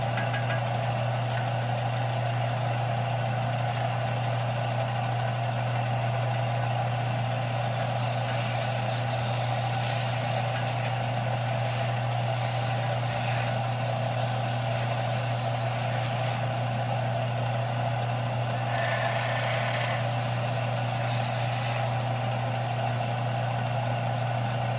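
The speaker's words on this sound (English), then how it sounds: "It's just my sander that I use to true things up." Power sander running in a holster workshop while truing up leather gun-belt work, a steady loud motor drone with bursts of harsher grinding as it bites into the material.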